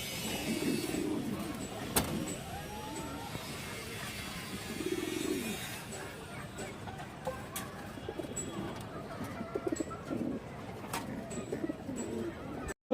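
Fancy pigeons in a loft, including Mukhi, Bagha and Silver varieties, give soft, low cooing calls in repeated bursts, close by, with faint background noise and occasional knocks.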